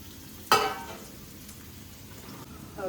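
Onions frying in a pan until golden while making poha, a soft steady sizzle with a sharp clatter of stirring early on and faint scraping toward the end.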